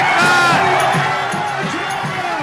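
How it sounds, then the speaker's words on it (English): Crowd of people in Kermanshah, Iran shouting and cheering outdoors as missiles pass overhead, a continuous rough mass of voices with rhythmic chant-like swells. "People there can be heard cheering as they see missiles pass overhead."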